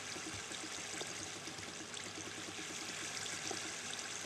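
Flowing water in the Minecraft video game makes a steady, faint, hissing trickle that runs evenly throughout with no voices.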